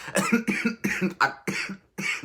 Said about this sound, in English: I'm getting choked up. I'm coughing.